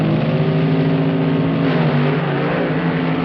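1965 drag racing cars launch at the NHRA Winternationals in a steady loud engine roar with strong droning harmonics that holds through the short stretch, close and unbroken, with no talking.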